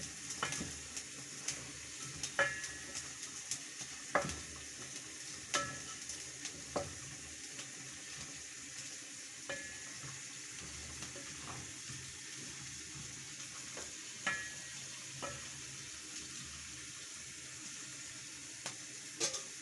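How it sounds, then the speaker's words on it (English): A pot of chicken boiling in sauce simmers with a steady bubbling hiss, while occasional soft clinks and scrapes of a utensil stirring come through, fairly quiet and close. "Our chicken is still boiling as we make our sauce."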